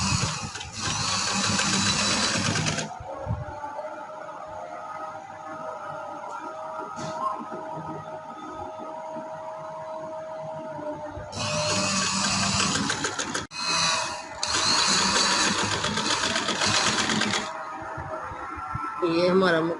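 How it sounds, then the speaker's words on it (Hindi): A sewing machine runs in bursts while stitching the last seam on a trouser hem, with steady whirring stretches broken by pauses, close and fairly loud, with someone talking in the gaps. "अब मैं ये लास्ट सिलाई लगा रही हूँ।"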